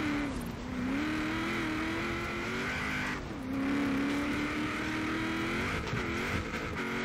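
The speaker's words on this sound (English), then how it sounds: "This truck is a V8, as you guys can hear it." A deep V8 four-wheel-drive truck engine in Forza Horizon 4 rumbles and revs continuously, pitch rising and dipping as it climbs, a steady loud motor drone without voices.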